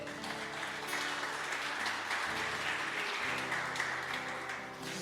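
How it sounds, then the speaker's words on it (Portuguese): A church congregation claps in praise during a worship service, a continuous wash of applause over a low, droning instrumental or organ-like tone that shifts pitch a few times. "dá forte aplauso a Ele"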